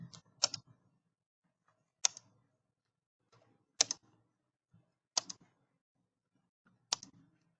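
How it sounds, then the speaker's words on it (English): Computer keyboard keys tapped in sparse isolated clicks, five short bursts spaced over several seconds in a quiet room, close and crisp with no talking. "Suppose I'm typing something,"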